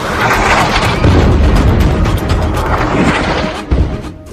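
Heavy bombardment in Gaza booms and crashes in loud, rolling bursts, filling the news footage with dense, continuous blast noise.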